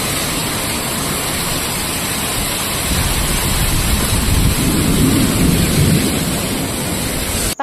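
Heavy monsoon rain pours steadily in Mumbai with rumbling thunder mixed into the dense wash, growing louder and fuller partway through, with no voices present.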